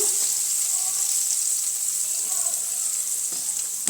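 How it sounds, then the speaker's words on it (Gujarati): Chopped onions sautéing in hot oil with green chillies for poha, a steady close sizzle and crackle with faint stirring throughout. "અને તેને પણ સરસ રીતે આપણે સાંતળી લેવાના છે"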